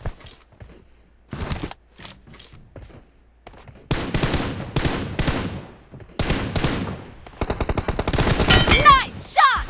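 Gunfire in the PUBG Mobile video game, rapid automatic bursts and single shots that come in clusters and grow denser toward the end. Excited voices talk between and over the shooting.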